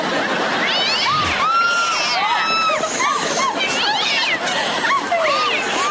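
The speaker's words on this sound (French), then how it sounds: "Monsieur Mistigris est très câlin comme chaton." Several high, plaintive kitten meows repeat over and over, loud and close, layered on top of each other with a busy background.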